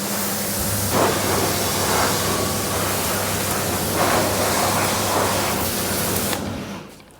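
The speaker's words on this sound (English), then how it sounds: "steam cleaning. It's just another level to normal pressure washing" A loud continuous hiss of a hot-water steam pressure washer lance spraying runs steadily with slight surges, then cuts off near the end.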